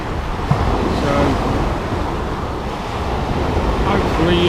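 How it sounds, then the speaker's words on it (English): Strong wind roars outdoors, buffeting the microphone in a loud, steady rumble with gusty swells and a faint higher whistle, sustained throughout. "it's pretty windy and the wind unfortunately is great out there"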